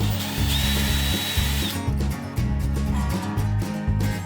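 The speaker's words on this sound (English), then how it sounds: "I used a 3/64 inch drill bit for the holes for the jump rings" A power drill with a 3/64 inch bit bores small holes through wood for jump rings, whirring steadily in short repeated bursts close up, with brief pauses between passes and no talking.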